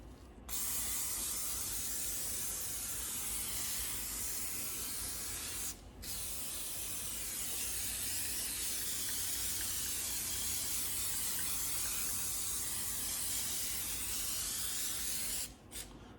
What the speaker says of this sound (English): I'm going to spray something on it just to keep it from rusting